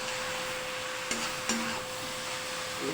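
Food frying in oil in a home kitchen pan, a steady low sizzle with faint stirring clicks and a couple of brief utensil knocks, close and fairly quiet, no talking.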